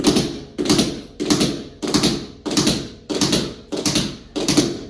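Tap dance shoes striking a hard floor in digs and toe drops, eight sharp, evenly spaced taps in a steady rhythm, each with a short ringing decay, loud and close.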